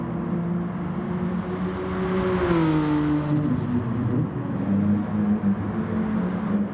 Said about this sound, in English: always nice to hear a car that sounds good from the exhaust.